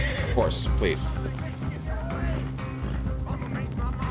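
A horse whinnies loudly a couple of times near the start in Red Dead Redemption 2, with hoofbeats and game sounds continuing underneath while a person talks over it.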